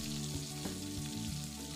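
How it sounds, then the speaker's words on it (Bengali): Cumin seeds fry gently in oil in a home kitchen, a soft continuous sizzle heard fairly faintly beneath a steady hum with no voices. "আর জিরেটা এইরকমভাবে ভেজে নিলেই হবে, খুব বেশি যেন পুড়ে না যায় সেটা খেয়াল রাখতে হবে"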